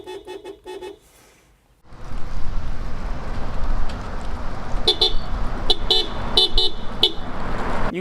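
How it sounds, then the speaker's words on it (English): The horn of a Toyota Land Cruiser, similar to a RAV4 horn, sounds in a few short toots at first, then a series of sharp honks rings out over loud road and engine noise. "You get a RAV4 horn in your Land Cruiser."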